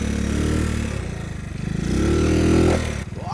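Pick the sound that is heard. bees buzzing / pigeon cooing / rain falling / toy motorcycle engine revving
toy motorcycle engine revving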